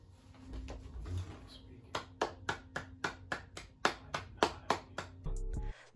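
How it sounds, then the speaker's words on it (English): Claps ring out in a steady run of about a dozen sharp, evenly spaced hits, close and fairly loud, celebrating Luna, with a low hum and some murmuring before the clapping starts. "Clap to the right, clap to the left."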